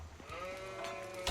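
A sheep in the video game Age of Empires IV gives a single short, wavering bleat, moderately quiet against a faint game background.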